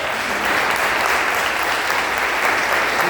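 A church congregation breaks into applause, a dense, sustained roar of many hands clapping together that fills the room evenly with hardly any voices over it.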